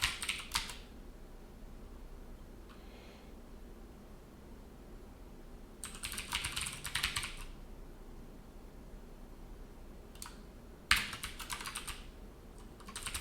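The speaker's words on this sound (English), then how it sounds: "Let me just start typing." Quiet bursts of rapid typing on a computer keyboard at a programmer's desk, a few short clusters of clicking separated by pauses over a faint steady hiss.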